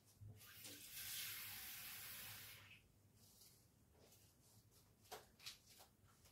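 Water runs from a kitchen tap while a strawberry yogurt smoothie is being made, a bright steady rush for about two seconds that then tapers off, followed by faint clinks and handling sounds.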